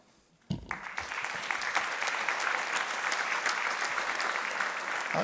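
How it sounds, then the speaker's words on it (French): After a short quiet moment, a conference audience at a regional social conference at Audencia bursts into sustained applause for themselves, a dense, even roar of clapping that holds steady to the end. "je vous demande de vous applaudir tous parce que vous y participez activement"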